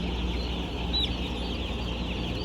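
Many chicks in a poultry house of tens of thousands of birds, a constant dense chorus of high peeping over a steady low hum of ventilation, with no one talking.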